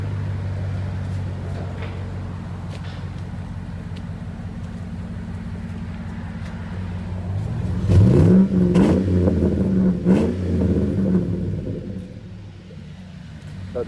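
A deep V8 exhaust on a Chevy Tahoe 5.3L Z71 with aftermarket mufflers idles with a low, steady burble, then revs up into a louder throaty roar before settling back down.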